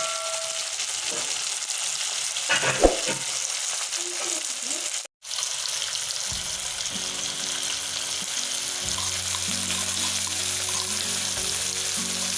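Pork frying in a pan, cooked with roselle leaves, sizzles steadily throughout, with a brief stir near the start, a short dropout midway and some low kitchen hum later on.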